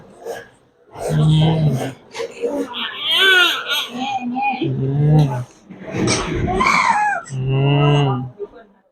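A newborn baby boy, just delivered by caesarean, cries loudly in repeated wailing bursts with brief breaths between them, close and dominant throughout.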